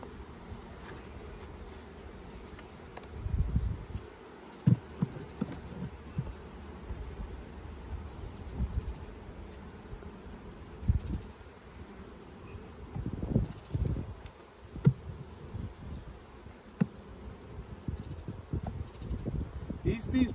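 Honeybees buzz around an opened hive while a weak colony is being boosted, a steady low drone with brief handling bumps and rustles, and a person talks over it.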